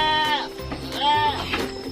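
Female goats in a colony fattening pen bleat in two long, wavering calls, each holding a quavering tone, with quieter animal shuffling and low background noise between them.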